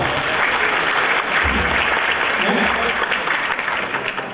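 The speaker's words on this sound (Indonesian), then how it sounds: "tepuk tangan dulu buat kita semua" Sustained applause from an audience at an Indonesian investment presentation, a dense steady wash of clapping that stays loud throughout and tapers slightly near the end.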